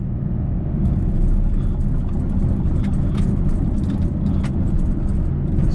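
A Nissan Rogue with newly installed spark plugs drives along, a steady low engine rumble and road whir that holds an even level throughout, with faint clicks and rattles above it.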